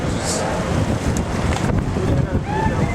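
Strong wind buffets the microphone outdoors, a loud continuous rumbling roar with people talking under it.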